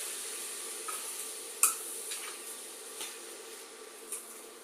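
Carrot halwa with sugar being stirred in a pan: a soft, continuous sizzle with a few light scrapes and taps of the spoon against the pan, fairly faint and with no talking.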